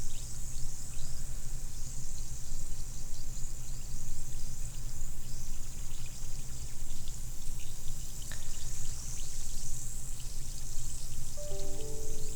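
A tablet dissolves and fizzes in a cup of water, giving a steady, even hiss of tiny bursting bubbles that carries on without pause, with a faint tone creeping in near the end.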